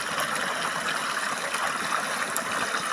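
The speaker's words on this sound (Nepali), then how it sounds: "झरनाहरू" A village waterfall pours in a steady, continuous rush of splashing water, close and even throughout with no voices.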